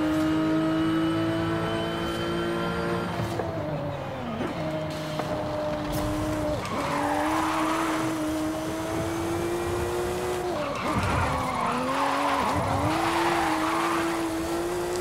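A Subaru SVX in Forza Horizon 5 holding a droning engine tone while its tyres scrub and squeal through repeated slides, the pitch dipping and rising as it fights for grip, with someone talking faintly over it.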